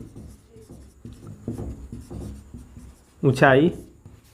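Chalk or marker scratches across a board in short rhythmic strokes, close and clear, and a voice speaks briefly near the end.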